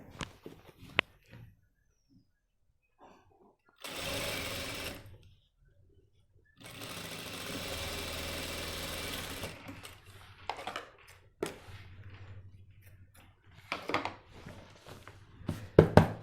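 Two separate close bursts of a sewing machine stitching a trouser belt and loops, each running a few seconds, followed by quieter handling clatter and small knocks of fabric and machine.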